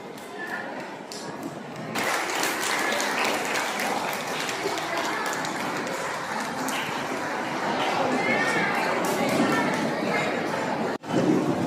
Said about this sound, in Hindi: आप लोग कृपया ताली बजाएंगे।